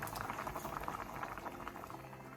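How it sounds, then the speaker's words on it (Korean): Budae-jjigae broth with a slice of cheddar cheese boils in a pot, giving a continuous bubbling, popping patter that stays close and fairly quiet with no voices. "국물이 바글바글 끓어오르면 체다치즈 한 장을 넣고 중불로 줄여 원하는 만큼 더 끓여주세요."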